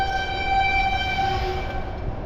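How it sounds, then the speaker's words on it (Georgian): A train passes near a riverside fishing spot, a steady rumbling roar of wheels with a sustained tonal horn-like whine, loud and continuous throughout with no talk. "მატარებელი მოდის თან."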